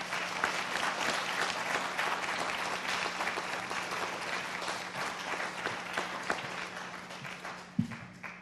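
An audience claps steadily at the 2016 Swain County Athletic Hall of Fame induction ceremony, honoring the inductees with a long, even round of applause that ends in one sharp clap near the close.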